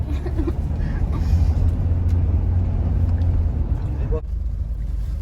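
Steady rumble of a car driving through Mumbai traffic, heard from inside the vehicle, with continuous low engine and road noise and faint traffic sounds around it.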